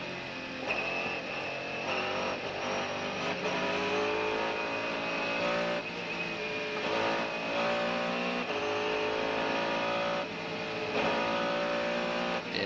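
Race cars at the 1998 24 Hours of Le Mans roaring steadily down the pit straight, a dense, continuous engine drone with layered passes and gear changes, heard from close trackside.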